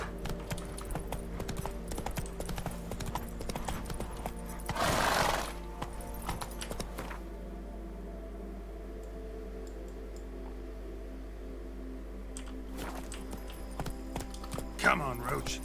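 Geralt's horse Roach trots in The Witcher 3, hooves clip-clopping in a steady rhythm over continuous game background sound, with a brief louder burst midway.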